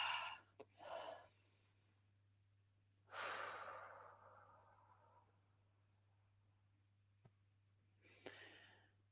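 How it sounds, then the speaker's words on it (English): A deep belly breath taken during a relaxed conversation: a long, soft inhale followed by a slow, audible exhale, close and quiet, with brief smaller breaths around it and no talking. "let's all just take a nice deep belly breath"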